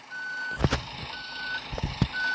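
Steady electronic reversing beeps from a car in the driving game Bus Simulator Ultimate, evenly spaced tones repeating against a low engine hum, clear and alone.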